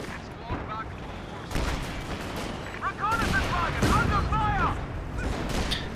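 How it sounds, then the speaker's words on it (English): Double mortar fire in a real-time strategy game, with booming blasts and explosions over a steady battle din and bursts of gunfire, while a commentator talks over the action. "Double mortar."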